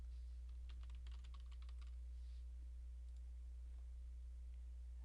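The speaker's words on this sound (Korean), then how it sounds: "이렇게 넣고 주관식 정답을 입력을 해줍니다" Quiet keystrokes on a computer keyboard come in a quick burst during the first couple of seconds and then trail off to a few light taps. A steady low electrical hum runs underneath throughout.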